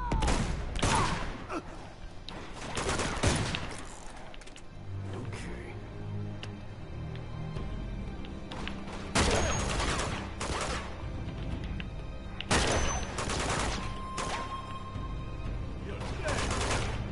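Repeated bursts of video game gunfire in Uncharted 2, with dense volleys at several points and steady battle noise in between, plus some talk mixed in.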